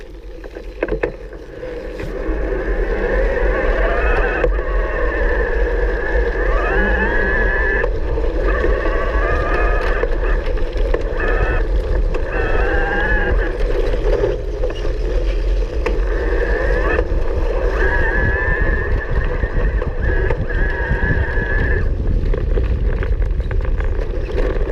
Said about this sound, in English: I am still in turbo mode, so the motor's going to be fairly pronounced.